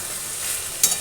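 Potato, eggplant, onion and tomato with crushed garlic and grated ginger frying in a pan, a steady close sizzle with a quick stirring scrape toward the end.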